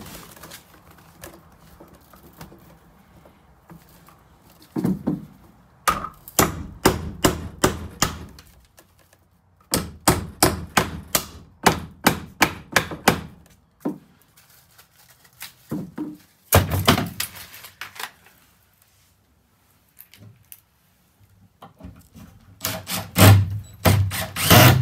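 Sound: hammering on a wall

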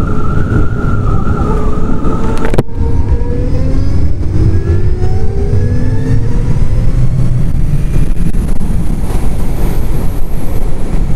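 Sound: Zero DSR electric motorcycle riding in Sport mode

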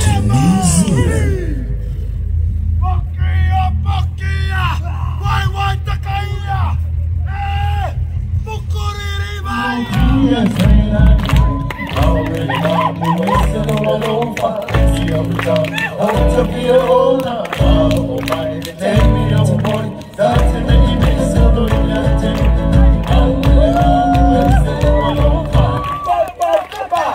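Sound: Maori haka performance with shouting

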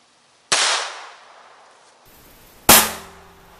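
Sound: 22 long rifle gunshot into coffee cans

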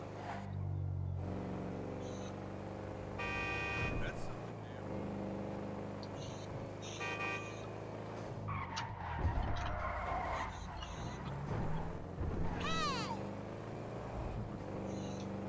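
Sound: car driving in the video game Grand Theft Auto 5

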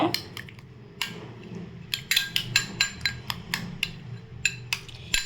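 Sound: mixing bread and egg with masala in a bowl

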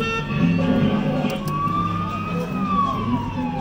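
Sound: kiddie ride siren sound effect

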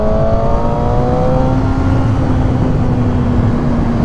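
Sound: motorcycle revving while overtaking another vehicle

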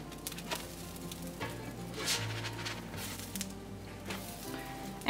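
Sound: pumpkin spice pancakes sizzling on the griddle after flipping

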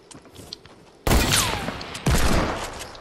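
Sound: sniper rifle gunfire in the video game Fortnite

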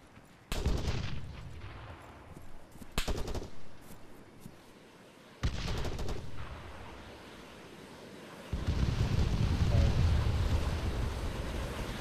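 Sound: gunfire in the video game Arma 3

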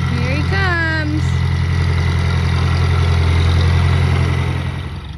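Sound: combine harvester approaching

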